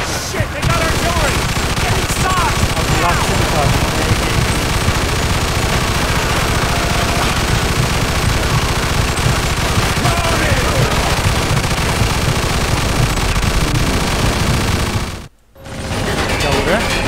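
Continuous gunfire and rattling artillery in a Mafia 2 Definitive Edition wartime battle, loud and dense throughout with a brief dropout near the end.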